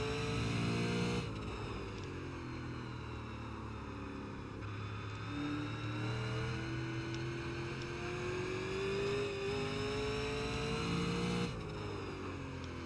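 A Super Late Model race car engine roars steadily in the iRacing sim at Stafford, its pitch rising and falling through throttle changes for about thirteen seconds, moderately loud with no voices.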